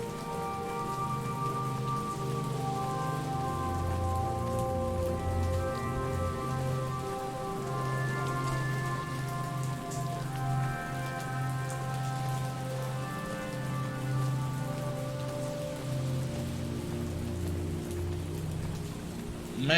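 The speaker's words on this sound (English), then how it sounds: "Ma'am, it's raining." Rain falls steadily as a soft, faint hiss and patter on surfaces, continuous throughout with a quiet tonal hum running underneath.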